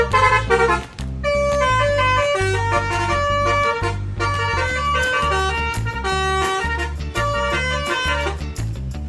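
A bus telolet horn sounds its melodic tune, with several tones stepping and overlapping in quick, musical phrases, loud and close for the whole stretch.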